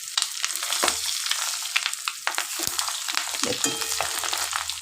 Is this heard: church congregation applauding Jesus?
no